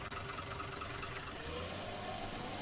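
Larger tractor engine in Farming Simulator 19, a steady mid-pitched drone with a slight rise in load partway through, running alone at a moderate level.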